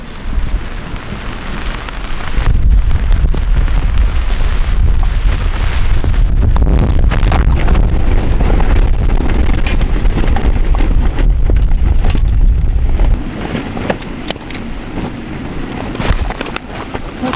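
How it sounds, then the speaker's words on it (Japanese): Strong spring gusts roar across a campsite at Fumotoppara, a loud broadband rushing that surges and buffets continuously for most of the stretch, then eases slightly near the end. "すごい風やなこれ。"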